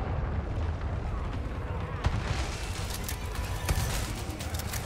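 A grenade blasts in Resident Evil 4 Remake amid dense, constant game noise, with sharp booms and crackling over a heavy low rumble.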